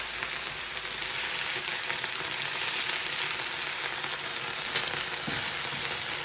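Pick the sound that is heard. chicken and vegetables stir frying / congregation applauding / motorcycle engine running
chicken and vegetables stir frying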